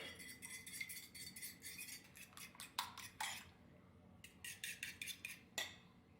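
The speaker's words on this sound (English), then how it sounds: "Beat up the egg." An egg beaten with a fork in a bowl, fast rhythmic clinking and tapping strokes in quick bursts with a short pause midway, close and fairly quiet.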